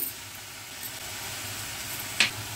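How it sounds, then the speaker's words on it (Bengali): Chopped garlic hits spinach in a hot pan for palak saag, giving a steady, soft frying sizzle with a brief sharper crackle burst near the end; no voices. "দেখুন ওপর থেকে রসুন কুচিটাও দিয়ে দিই"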